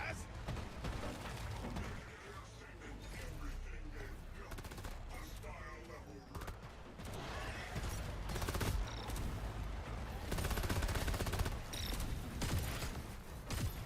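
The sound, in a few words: gunfire from the video game Deep Rock Galactic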